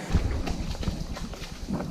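Water buffalo hooves plod steadily along a trail during a saddled ride on Marajó island, Brazil, a soft irregular clip-clop close by with outdoor background noise.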